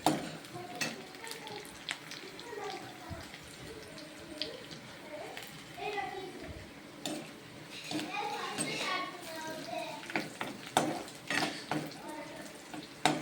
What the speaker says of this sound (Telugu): చూడండి ఎలా ఫ్రై అవుతుంది.